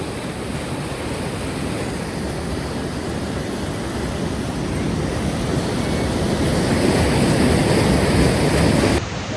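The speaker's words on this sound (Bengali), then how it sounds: "বৃষ্টি পড়ছে, ঝর্ণা" A loud waterfall roars nearby while rain falls, a heavy, broad rushing wash that swells slightly toward the end before cutting off.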